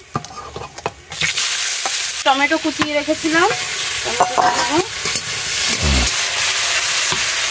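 Onions drop into hot oil with cumin, bay leaf, cardamom and cloves, setting off a sudden loud sizzle after a quiet second that keeps hissing while someone talks over it.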